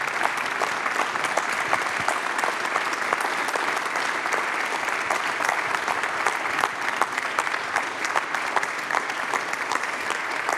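An audience applauds steadily throughout at a ceremony honouring a general, a dense, even wash of clapping with no voices on top.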